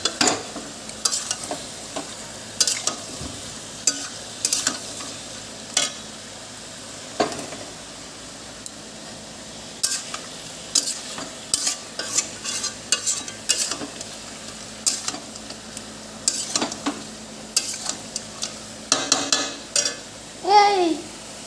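A spatula scrapes and stirs curry in a kadai-style wok in a home kitchen, with repeated sharp scraping strokes in an uneven rhythm over a steady frying sizzle and faint voices in the background.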